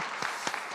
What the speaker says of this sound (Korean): 우리 다 같이 박수 한번 하시죠.